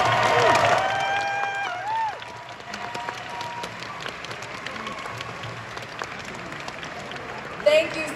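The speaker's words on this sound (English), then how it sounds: "Thank you so much to everyone for cheering on these trainers" An audience at the 2023 Pokemon European International Championship applauds and cheers the finalists, a dense wash of clapping that is loudest at the start and then settles into steady applause, with a voice speaking over it early on.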